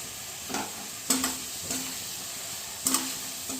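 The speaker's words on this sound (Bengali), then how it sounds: "গুঁড়ো মশলাগুলো সব এবার দিয়ে পেঁয়াজ আর টমেটোর সঙ্গে মশলাটা একটু ভালোভাবে মিশিয়ে নেব" Ground spices stirred into onion and tomato in an oiled pan for a fish-head moong dal, a faint background sizzle with three or four soft spatula scrapes against the pan.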